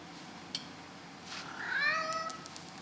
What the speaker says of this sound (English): He just makes these like little chirping noises when he finds something he really wants to catch and bite.